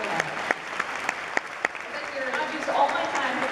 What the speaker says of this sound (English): I just think that deserves a round of applause.